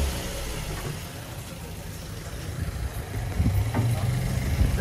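A Maserati engine idles with a low, shaky rumble, close by, then swells slightly louder toward the end, without talk over it.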